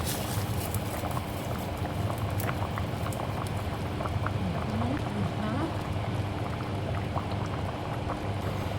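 Borscht simmering in a pot gives a steady, close bubbling and popping that never lets up.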